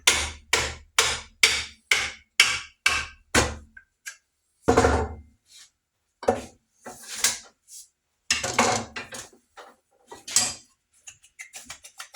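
Steady hammer blows drive a wooden wedge into the kerf of an axe handle, with a quick run of sharp evenly spaced knocks followed by scattered, more irregular taps and handling noises.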